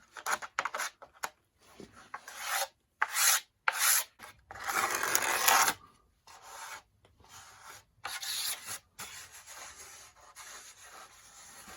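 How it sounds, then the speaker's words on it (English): Bursts of dry, gritty sanding on the plastic around an archtop guitar's f-holes in short strokes with pauses between, close up and fairly loud, no voices. "I leveled out all of the F-hole plastic with sandpaper and the razor"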